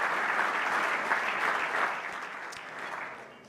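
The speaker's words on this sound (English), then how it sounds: "So a big round of applause once again for CME, all that they do, and Terry Duffy, the chairman and CEO." Audience at an LPGA awards ceremony applauds in a big room, a sustained moderate wash of clapping that gradually fades toward the end.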